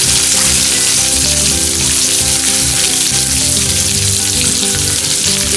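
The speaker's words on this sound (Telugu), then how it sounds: "ఇవి కొంచెం బ్రౌన్గా అయ్యే వరకు వేయించుకోండి సిమ్లో పెట్టుకుని వేయించుకోండి" Onions frying in oil with chana dal, mustard seeds and curry leaves for leftover-idli upma, a loud steady sizzle with crackling throughout, close up and with no talking.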